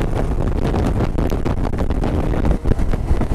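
Heavy wind buffets the microphone in a constant loud roar with gusty rumbling while riding a WMoto Draco 250i motorcycle at speed, with no talking.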